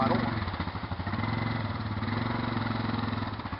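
A quad bike engine on a trail ride drones steadily up close, with a rough pulsing throb that holds throughout.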